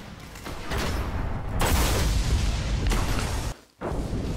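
Sniper rifle fire in the video game Destiny, with the Perfect Balance perk in use: loud, booming blasts with heavy low rumble, several shots in quick succession filling the stretch before a brief drop near the end.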